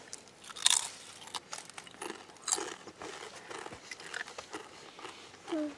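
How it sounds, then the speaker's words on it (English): Kettle Brand Maple Bacon potato chips crunch loudly in close bites, several sharp crackling bursts followed by quieter chewing, with no talking over them. "I can hear it crunching"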